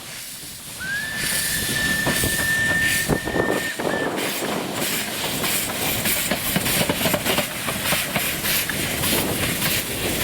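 A narrow-gauge steam train rumbles steadily past with a rattling, clattering roll, and a long whistle sounds near the start, continuous and fairly loud throughout.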